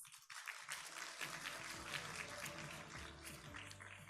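An audience at a medical tourism conference applauds to welcome a speaker to the stage, with dense, sustained clapping that starts abruptly and stays even throughout, heard from within the hall.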